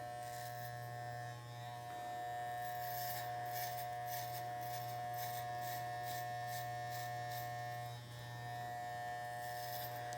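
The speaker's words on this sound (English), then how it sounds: "I'm just going to shave off all of this hair." Electric hair clippers shave a boy's hair during a Halloween spiderweb haircut, giving a steady close buzz with faint rhythmic rasping as the blades pass through the hair.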